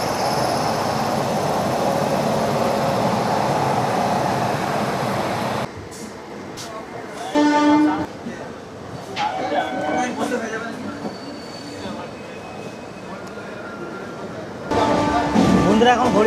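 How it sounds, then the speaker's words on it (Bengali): Tamralipta Express train running, a loud steady rumble of the carriage that drops away partway through, then scattered clanks and wheel squeals before the roar returns, with faint voices in the background. "আমাদের ট্রেন জাস্ট সাঁতরাগাছি স্টেশন পার করলো"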